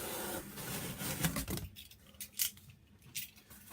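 Scissors slice through the top edges of a cardboard box, with a few crisp snipping cuts followed by quieter rasping and rustling of the card, close and fairly soft with no talk.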